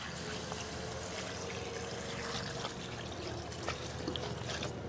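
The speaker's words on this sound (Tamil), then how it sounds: "தண்ணி சேர்த்துக்கலாம்." Water poured into a pot for a village-style snail curry, a steady close trickle and splash running continuously in an outdoor kitchen, with faint background sounds and no talking.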